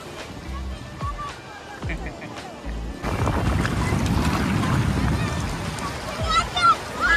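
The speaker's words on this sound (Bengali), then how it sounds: "ঢেউ আসছে" Sea waves roll in on the beach at Mandarmani, a rising wash of surf and wind noise that swells loudly about halfway through, with people talking and shouting over it.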